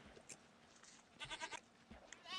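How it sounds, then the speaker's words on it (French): A goat bleating in the Minecraft video game, with a short wavering bleat in the middle and another starting at the end, faint against soft game background sound. "on peut observer une chèvre"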